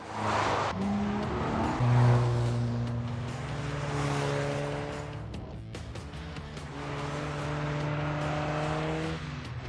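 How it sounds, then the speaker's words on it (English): Cars drifting on a narrow go-kart track in The Grand Tour game, engines revving up and down with tire squeal, rising and falling engine notes over several seconds. "So I decided we should have a drifting competition"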